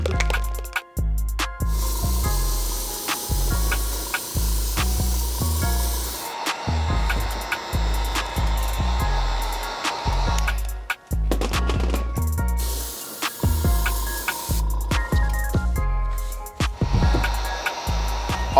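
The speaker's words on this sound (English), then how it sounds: "now we're on to laying down our paint. The first color we're gonna lay down is our iridescent yellow. That's gonna go in the toe box first." Bursts of spray paint hiss as iridescent yellow is laid onto the toe box of a custom Air Jordan 1 sneaker, repeated short sprays with brief pauses between, close and fairly loud with no talking.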